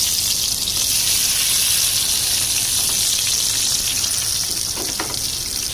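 Tomatoes fry in a pan with a loud, steady, broadband sizzle that holds nearly constant throughout, and no clear stirring strokes stand out.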